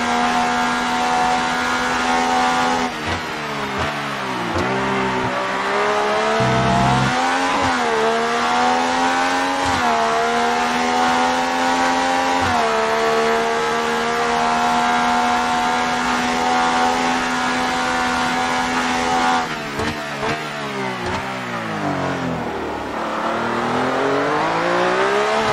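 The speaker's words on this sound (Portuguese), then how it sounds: "Olha aí a saúde do motor Ferrari de 1976." A 1976 Ferrari Formula 1 engine screams loud and close throughout, a high steady harmonic whine that dips briefly during gear changes and lift-offs and then climbs again as the car races on.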